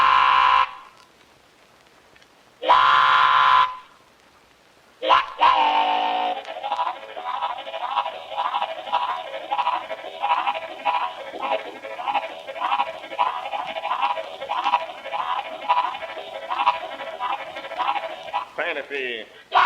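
A harmonica imitates trains in a rhythmic chugging pattern with pulsing wailing tones, preceded by a few short loud blasts and gaps of near silence.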